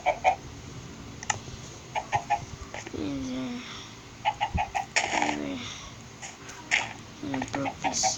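Blocky Minecraft chickens clucking in repeated short bursts alongside other game sound effects, with occasional voices talking in between.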